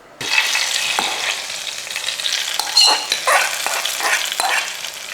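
Curry leaves and sliced onion spit and sizzle loudly in hot oil in a pan as a curry tempering is stirred, a steady crackling fry with a few sharper pops throughout.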